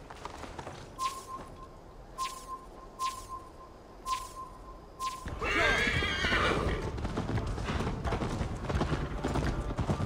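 Horse in the Assassin's Creed Valhalla video game, a series of chiming tones followed by a loud neigh and then rapid galloping hooves that continue steadily to the end, close and prominent.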